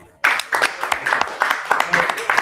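An audience claps at an Israelite School of Universal and Practical Knowledge Purim feast hall in New York, a burst of dense applause that starts abruptly and keeps going with scattered louder claps.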